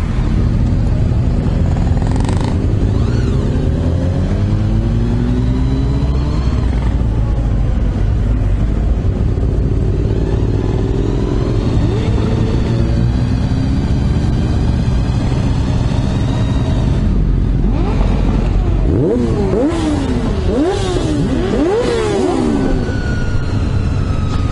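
Motorcycle engines rumble and rev at a bikers' season-opening meet in Pruszków, a loud dense idle with several rising and falling throttle blips from nearby bikes, continuous throughout.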